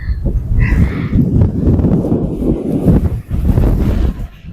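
Strong, steady wind buffets the microphone atop Samanar Hills at Keezhakuyilkudi near Nagamalai Pudukottai, a loud continuous low roar with gusty swells and no talk.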